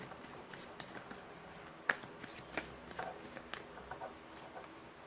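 Tarot cards are shuffled softly and close up, a run of faint riffles and light flicks with one sharper snap partway through, with no voices.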